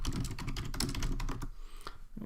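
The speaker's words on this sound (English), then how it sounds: "You probably hear me typing away." Rapid typing on a computer keyboard, a dense run of close clicks that thins out into a few scattered keystrokes toward the end.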